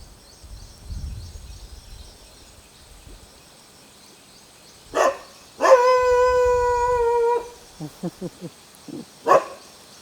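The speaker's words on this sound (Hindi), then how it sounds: "कुत्ते को भी मज़ा आ रहा है. बोल रहा है जागो." A dog howls and barks nearby during an outdoor yoga session: a few sharp barks, then a long sustained howl, followed by a quick run of short yips and one last loud bark.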